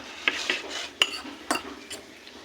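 A mayonnaise and cheese mixture being stirred in a bowl with a utensil, a few soft scraping and clinking strokes at a steady pace, close and fairly quiet with no talking.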